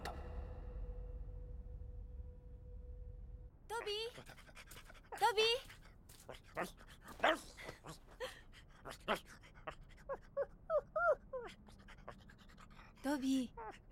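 An old dog pants in quick breathy bursts and whimpers in the Fist of the North Star anime story of Yuria, following a steady hum, with voices speaking between the sounds.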